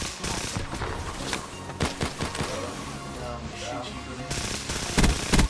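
Rapid automatic gunfire and single shots from Call of Duty: Black Ops 3 multiplayer on the Spire map, dense and loud throughout, with sharp bursts near the end and players talking over it.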